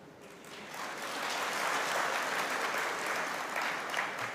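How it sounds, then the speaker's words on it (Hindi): An audience breaks into steady applause at a Hindi motivational speech, the clapping rising over the first second and then holding as a dense, even roar of many hands. "अब आप लोगों ने ये तालियां क्यों बजाई हो मुझे बताएं।"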